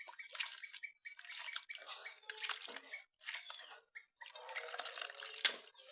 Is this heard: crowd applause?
no